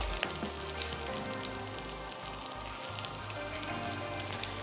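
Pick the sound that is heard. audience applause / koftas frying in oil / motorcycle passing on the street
koftas frying in oil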